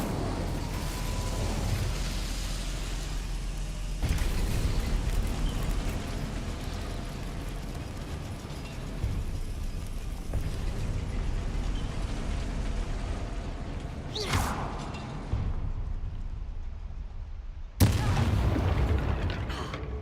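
In the game Hogwarts Legacy, an Incendio fire spell lands as a heavy booming burst amid dense combat rumble, followed by a sharp crack and a second loud impact near the end.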